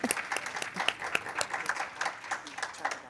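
A small audience at a Women's History Month panel event applauding the panelists, a thin patter of clapping from a modest group, moderately distant and fairly quiet, with scattered individual claps throughout.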